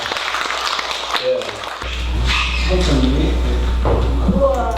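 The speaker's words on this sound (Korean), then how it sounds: "박수 주세요" A church congregation claps for an elder's dedication offering; a speaker talks at first, then applause rises and continues at moderate loudness beneath a low hum and scattered voices.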